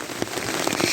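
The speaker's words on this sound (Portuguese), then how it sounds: "Chuva." Rain falling on an early-morning campsite in the woods after a night of downpour, a loud, dense patter of drops on surfaces with a few sharper splats, close and steady.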